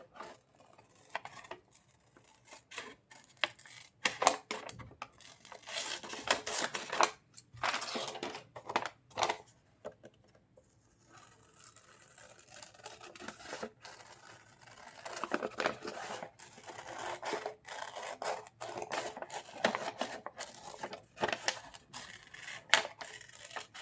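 Scissors cut a round pattern piece out of a plastic delivery bag, giving irregular close bursts of crisp snipping and plastic crinkling with short pauses between cuts.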